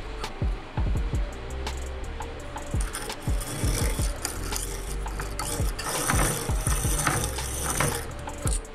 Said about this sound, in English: you can actually press up against that abrasive wheel while you spin this handle